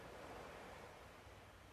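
Ocean waves wash in a soft, steady broadband hiss, faint and distant, with no voices over it.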